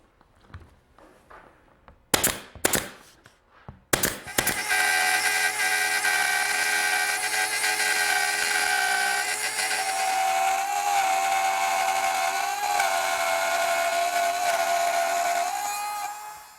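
A small handheld power router cuts a groove in wood along a pinned template, with a few sharp knocks first, then a loud, steady high-pitched whine that holds for about twelve seconds before cutting off.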